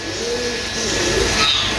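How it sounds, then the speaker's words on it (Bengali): Pigeons coo softly in a neglected zoo enclosure shared with many parrots, heard over a hissy background with no talking. "এখানে কবুতর রয়েছে, কবুতর এবং অনেকগুলো টিয়া পাখি রয়েছে"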